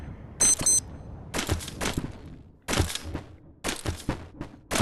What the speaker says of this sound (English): there's a little alarm on your thing. I think it tells you when nighttime's coming